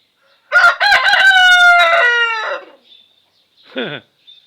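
A rooster crows once, loud and close, in a long wavering cock-a-doodle-doo outdoors, followed by a short quieter call.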